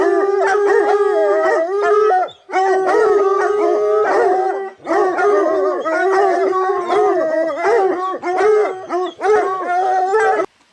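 A dog howls loudly and close by on a hiking trail near Miller Peak in Arizona, with long wavering howls in several drawn-out bursts separated by brief pauses and no talking.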